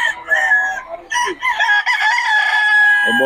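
Roosters crowing close by at a gamefowl gathering in Bocaue, several overlapping loud, drawn-out crows following one another, with a brief voice near the end.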